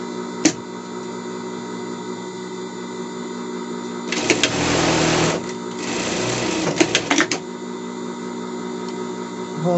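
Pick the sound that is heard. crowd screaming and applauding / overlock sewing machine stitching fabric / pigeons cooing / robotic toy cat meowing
overlock sewing machine stitching fabric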